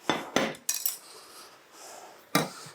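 Utensils scrape and clink against dishes as food is served into a small bowl, after a chicken and vegetable noodle stir fry. A few sharp metallic knocks are separated by quieter gaps, close up, with no speech.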